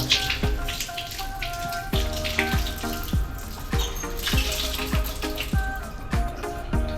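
Water runs steadily from a broken, leaking tap, splashing into a basin with regular drips and taps against the surface.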